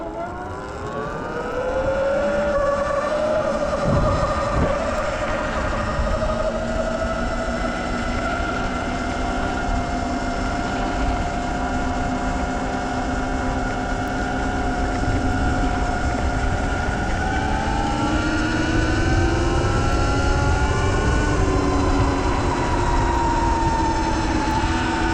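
A 2022 Sur Ron X electric dirt bike ridden around the block, its steady motor whine rising and falling in pitch with speed over continuous wind and road rumble, sustained close up throughout.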